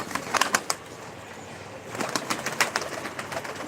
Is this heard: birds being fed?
yes